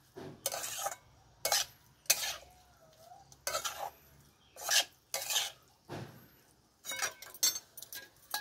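Cauliflower is stirred and mixed in a pan with a utensil, heard as repeated scraping strokes and light clinks in uneven bursts over a faint sizzle, close by, with no talking.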